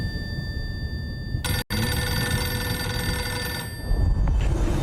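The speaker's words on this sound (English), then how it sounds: "Phone's ringing, dude." A telephone ringing, a sustained electronic trill that starts abruptly, breaks off briefly and then continues steadily, heard over a constant background rumble.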